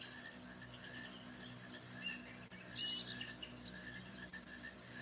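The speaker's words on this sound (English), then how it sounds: "And her bird." A small pet bird kept indoors gives soft, quick chirps and short tweets over a low room hum, faint and intermittent.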